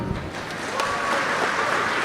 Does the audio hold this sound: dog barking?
no